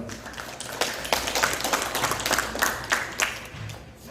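Applause from an audience at a regular quarterly meeting of Gangnam's Peaceful Unification Advisory Council, steady clapping lasting about four seconds at moderate loudness, with dense, irregular claps and no voices.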